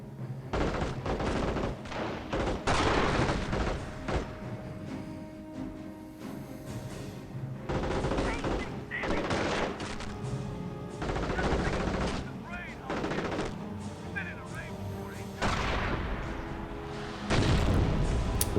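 Sniper and mortar squads firing in Company of Heroes Mobile, a dense barrage of game gunfire, machine-gun bursts and booming artillery, loud and nearly continuous, with a voice talking over the battle.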